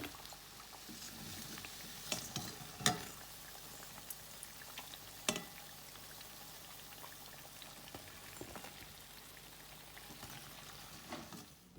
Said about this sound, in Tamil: இது இன்னும் ஒரு 2 மினிட்ஸ் நல்லா ஃப்ரை ஆகட்டும்.